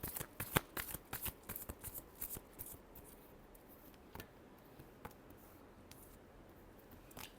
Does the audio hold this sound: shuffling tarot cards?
yes